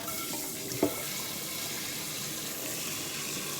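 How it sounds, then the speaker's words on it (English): Water runs steadily from a kitchen tap into a cooking pot, a quiet continuous splashing hiss with one faint knock near the start. "now what I'm going to do is I'm going to put my water in my pot here."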